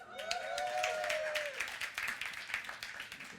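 An audience at a church Sunday gathering claps and cheers, a steady patter of applause with a rising whoop or whistle early on, moderately distant and fading toward the end.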